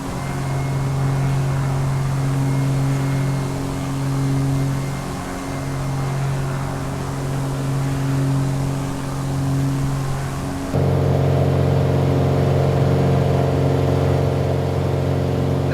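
The Piper Arrow III's single piston engine drones steadily and loudly while climbing after takeoff in MSFS2024, its tone stepping up noticeably about eleven seconds in and holding, with no talk over it.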